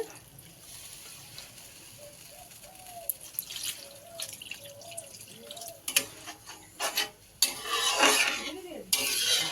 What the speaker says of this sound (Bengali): এবারে ঝোলের জন্য জল দিয়ে দেওয়া হচ্ছে